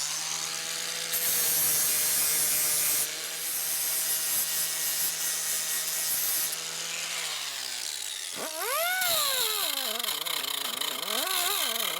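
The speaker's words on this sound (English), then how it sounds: "I need to grind back all of this weld" An angle grinder bites into weld seams on a rusty car body under restoration, a loud, continuous high-pitched grinding whine that rises and falls as the disc loads up, stops, then spins back up.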